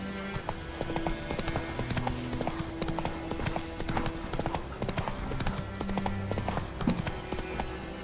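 Roach, the horse in The Witcher 3, trots with a fast, steady clip-clop of hooves under game music and ambience, close and continuous throughout.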